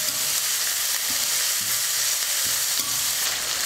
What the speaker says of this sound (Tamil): இப்போ கருவேப்பிலையும் வெங்காயமும் சேர்த்துக்கிறேன்